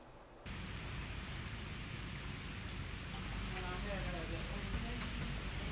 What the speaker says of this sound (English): On the third day of non-stop rainfall